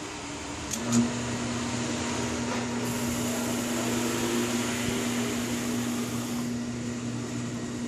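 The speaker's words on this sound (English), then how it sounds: "I'm going to drill this out, which is going to give me my center mark and my exterior perimeter." A drill boring into a wheel blank clamped in a vise, producing a steady whirring machine hum with a sustained tone and a brief bump near the start.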